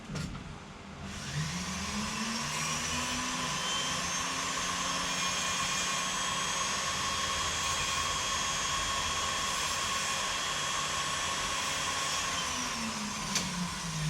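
A screwdriver is ground on a power grinder while working on a Saito engine rocker arm pin; a steady, loud high whine spins up, holds evenly throughout and winds down at the end, with no talking.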